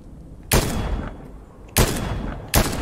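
Sniper rifle shots in the Fortnite video game: three sharp loud cracks spaced about a second apart, each trailing off in a short echoing tail over game ambience.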